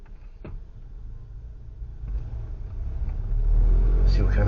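A 2019 VW Golf R engine builds from a low idle-like rumble into a swelling rev as the car starts to accelerate, growing louder toward the end with a voice briefly heard early on.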